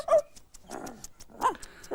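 A small dog lets out several short barks and growls, close and moderately loud, in brief bursts with pauses between them.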